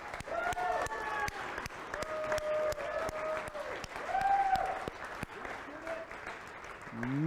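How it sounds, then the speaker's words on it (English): Scattered audience clapping for students at a capstone showcase: sparse, distinct claps spread across the room while voices call out and talk over them. "can we get a round of applause for those students?"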